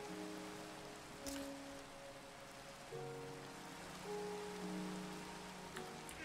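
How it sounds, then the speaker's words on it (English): Rain falling in modded Minecraft, a soft continuous patter of raindrops with sustained tonal game sounds held underneath, faint and without voices. "If it's raining, should we just be able to scoop water from the sky?"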